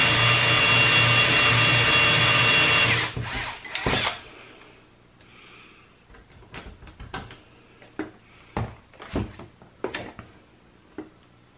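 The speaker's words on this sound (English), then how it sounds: "I will continue with the drilling part." A power drill boring out a broken screw lodged in a circuit breaker: a loud steady whine for about three seconds, a brief final burst, then quieter scattered knocks and clicks of handling.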